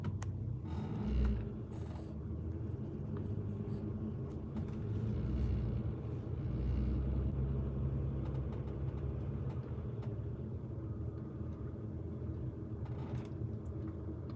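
Car driving slowly in a carpool pickup line, a low, steady engine rumble heard from inside the cabin, moderately quiet with occasional small bumps and no talking.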